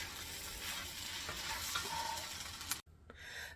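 Spam fried rice with green onions cooking in a pan, a loud close sizzle with light stirring scrapes that cuts off abruptly near the end, followed by faint quieter frying.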